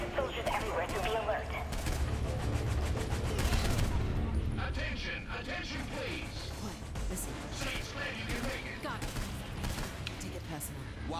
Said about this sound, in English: So those are exploding barrels?